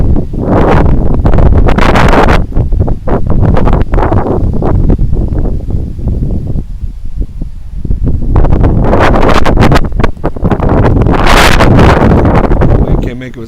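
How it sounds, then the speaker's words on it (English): Strong wind of about 20 mph on open water during kayak fishing roars steadily and loudly into the microphone, with heavy buffeting gusts throughout and some talk mixed in. "This wind is a nightmare."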